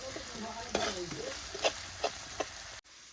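Onions frying with salt and turmeric in a pan for a pork dish, a soft sizzle broken by a few sharp stirring scrapes, close and fairly quiet, cutting off abruptly near the end.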